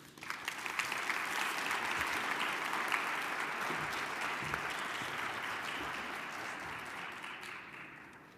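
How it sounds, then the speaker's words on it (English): Conference audience applauding Commissioner Touton at a water users' annual meeting, a sustained dense wash of clapping from many hands that swells quickly and holds steady before tapering slightly, with no voices over it. "Let's give her another round of applause"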